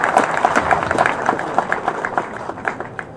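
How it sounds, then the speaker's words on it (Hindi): An audience claps steadily at a community CCTV camera inauguration, many hands in a sustained patter that thins toward the end. "अब ताली बजाएंगे।"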